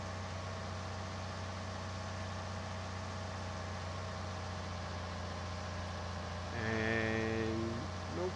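A tractor engine drones steadily in the Farming Simulator video game, climbing a hill while seeding, then revs higher near the end with a rising, brighter whine.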